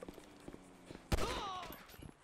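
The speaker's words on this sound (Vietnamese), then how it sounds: "Rồi đồng chí bắn súng điện." A taser fired in the video game GTA 5, one sudden sharp crack followed by a crackling electric buzz with whistling tones that fades over about a second. Faint sounds come before it.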